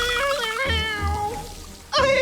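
A cartoon cat gives a long, clear meow with a falling tone, then starts another loud meow after a short pause, close and alone.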